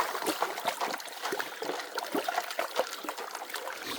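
Water swishes and trickles in steady, close sloshing pulses as a gold pan is worked in a shallow creek, with no talking.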